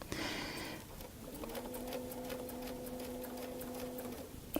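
A sewing machine stitching a 2-inch circle, a steady quiet whirring hum with a faint rapid ticking of the needle, running evenly for several seconds before stopping with a small clunk.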